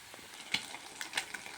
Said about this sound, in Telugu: తర్వాత ఇందులో ఎగ్ మిక్స్ చేసుకున్నది పోసుకోవాలి